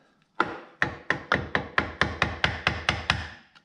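A screwdriver being tapped under the tri-lobe pin of an outboard motor's trim assembly, giving ten sharp, evenly spaced metallic knocks, close and clear with no talk.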